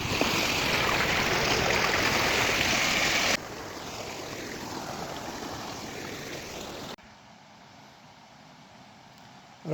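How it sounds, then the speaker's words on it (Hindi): Fast, rushing stream water pours steadily at a waterfall in Odisha, a loud broadband roar that steps down twice in level, becoming quieter and more distant toward the end. "पानी का बहाव जो है वो तेज़ है।"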